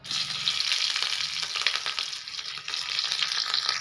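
Green chillies, bay leaves and cumin fry in hot oil, a loud continuous close sizzle and crackle with bright spitting that stays steady throughout, with no talking.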